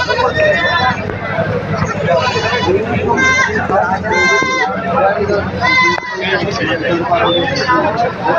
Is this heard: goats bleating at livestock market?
yes